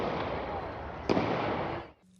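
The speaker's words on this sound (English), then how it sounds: "Sudden gunfire stunned everyone" A single sharp gunshot cracks out over a continuous roar of crowd noise and voices during a No Kings protest in downtown Salt Lake City, followed by more crowd din before a sudden drop to near silence.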